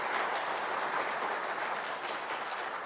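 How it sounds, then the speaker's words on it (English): Steady applause from a conference audience at a keynote event in Charlottesville, a dense, even wash of clapping that holds at constant level throughout. "Please join me in a round of applause to thank them for all their efforts."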